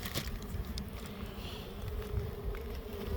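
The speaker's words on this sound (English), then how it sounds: "It's got a bunch of bees on it." A dense, continuous buzz of many bees close by, with wind-like rustle and occasional taps; no talking.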